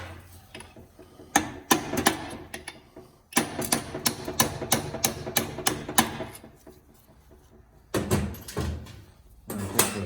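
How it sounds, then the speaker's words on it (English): A roll pin is driven out of a T56 transmission case with bursts of rapid, sharp metallic blows. They come in clusters broken by brief pauses, close up, with a ratcheting, clattering edge. "And then we're gonna drive this roll pin out."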